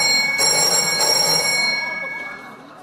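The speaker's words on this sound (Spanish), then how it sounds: "Y ha sonado el teléfono ya para Nico." A telephone rings in a Spanish afternoon TV studio, a bright, steady electronic tone with a couple of pulses early on that fades away over a few seconds, with no talking.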